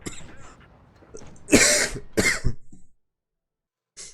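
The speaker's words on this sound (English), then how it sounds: "I'm also coughing a bit" Coughing during an online tournament match, two loud bursts after quieter murmuring, then a short final cough after a pause.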